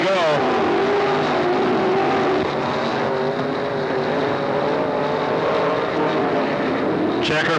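Stock cars race at Hickory Speedway with a loud, continuous engine roar whose pitch rises and wavers as the pack passes close by, holding steady throughout with a faint voice underneath.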